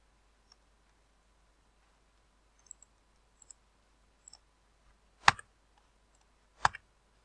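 A few isolated key presses on a computer keyboard, faint scattered clicks followed by two sharper, louder taps, each separated by quiet pauses.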